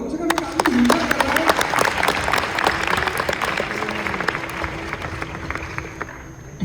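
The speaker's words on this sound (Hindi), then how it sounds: "इनके लिए ताली बजाओ कम से कम।" An audience at a talk event in Raipur breaks into clapping that rises quickly, holds steady, and tapers off over several seconds.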